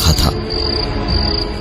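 Insects chirping steadily at night, a constant high cricket trill running through the whole stretch over a low ambient bed, with no voices.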